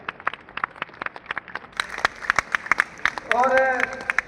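Audience applause greeting Delhi Chief Minister Rekha Gupta at a public gathering, a light scattered patter of claps with a voice briefly heard near the end.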